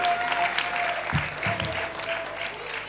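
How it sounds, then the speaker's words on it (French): Studio audience applauding a contestant during a televised singing competition semi-final, a steady wash of clapping with some low musical tones underneath. "On applaudit pour le candidat Salvador Josué de Kaya."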